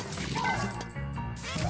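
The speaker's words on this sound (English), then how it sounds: "he's slamming him in the glass" A ghost slammed into a glass pane in Luigi's Mansion 3, a game hotel shop, producing a sharp crashing smash amid clattering game effects and brief squeaky cries.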